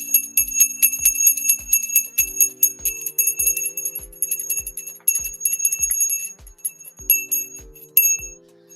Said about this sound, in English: I know how much you love that bell.